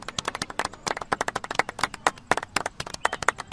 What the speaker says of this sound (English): Let's have a round of applause for MBTU